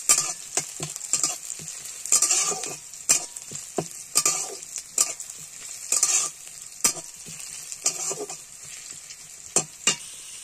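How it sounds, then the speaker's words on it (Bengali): Chopped onion and garlic fry in a hot pan, a steady crackling sizzle broken by repeated sharp scrapes and clatters of stirring, loud and close with no voices. "ভালো করে ভেজে নেব।"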